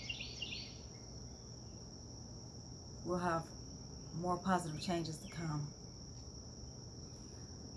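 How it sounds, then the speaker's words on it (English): Crickets chirp in a steady high, thin trill outdoors in the early morning, with faint bird calls mixed in, continuing softly beneath a man's brief nearby speech. "you can hear birds in the background and kind of like the little crickets"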